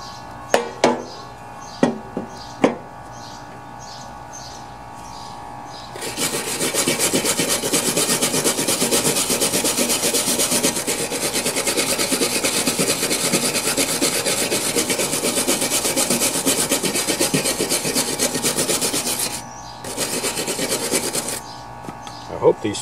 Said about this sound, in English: I think I'll need to file some of the corrosion off of there.